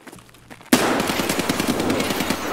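After a quiet moment, automatic gunfire in a video game, likely Escape from Tarkov, erupts suddenly and keeps hammering in rapid, loud bursts to the end.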